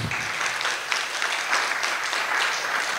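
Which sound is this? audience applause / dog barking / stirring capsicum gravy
audience applause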